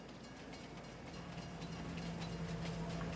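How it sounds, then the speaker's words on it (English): A train in the Farming Simulator 22 game, on the Elm Creek map, approaches with a steady rolling rumble and a droning hum that grows a little louder, with no talk over it. "And I think I hear the train."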